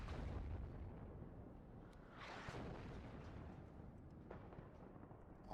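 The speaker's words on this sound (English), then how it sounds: "Artillery keeps missing." Distant artillery fire in the wargame WARNO rumbles faintly under a steady low background, with one broader blast swelling near the middle and a few sharp, quiet cracks afterward.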